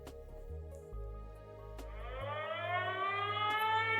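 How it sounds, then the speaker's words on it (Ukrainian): A civil defense air raid warning siren rises and holds a steady wailing tone, its pitch climbing across the clip, loud and continuous with a low hum underneath and no talking. "Зараз буде попередження про сирену."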